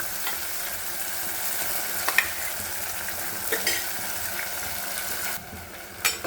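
Garlic with coarsely ground onion and tomato paste sautéing in hot oil for a fried fish curry, a steady close sizzle broken by scraping stirs and a few sharp clinks of the spoon against the pan, with no talking.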